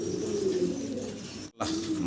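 A pair of yellow muffed helmet pigeons coo with a low, steady murmuring call close by, lasting almost the whole moment with a brief break near the end.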